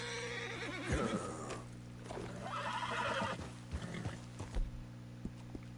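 A horse in Red Dead Redemption 2 gives a couple of close, loud whinnies with snorts over a steady hum of game background, with a few soft hoof thuds near the end.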